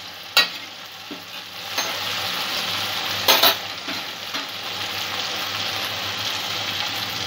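Onions frying for a rohu fish curry hiss steadily in a pan, broken by a few sharp scraping clacks of a spatula as they are stirred, close and fairly loud, with no talking.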